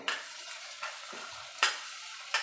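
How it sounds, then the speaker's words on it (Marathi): Turmeric, red chilli powder, homemade garam masala and coriander powder sauté in a pan: a quiet, steady sizzle broken by a few sharp scraping stirs of the spoon, with no voices. "अर्धा चमचा हळद, 1 चमच गरम मसाला आणि अर्धा चमचा धनिया पावडर छान परतून घेऊया।"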